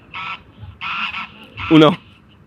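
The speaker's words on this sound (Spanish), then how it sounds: "Unos gansos" Geese honking in three loud, close bursts, each a harsh nasal call, with the last one the strongest; no talk over them.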